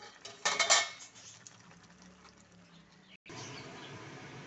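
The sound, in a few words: draining boiled chopped cabbage from a pot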